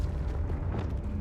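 A Confringo spell blast in the video game Hogwarts Legacy, a brief booming, rumbling burst that fills the moment with a low, dense roar.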